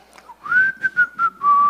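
A person whistles a short, clear melodic phrase of several sustained notes, close and alone with no talk.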